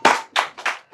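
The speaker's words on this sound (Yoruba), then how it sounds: "Ẹ jẹ́ bá mi pàtẹ́wọ́ fún wọn." On a Yoruba television game show, people clap in a few short, sharp bursts separated by brief pauses, close and fairly loud.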